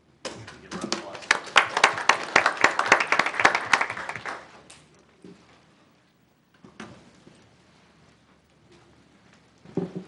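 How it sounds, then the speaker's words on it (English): Audience at a city council meeting giving a short round of applause, crisp close clapping swelling for about four seconds then dying away into a quiet room with faint movement and murmurs. "Give a round of applause."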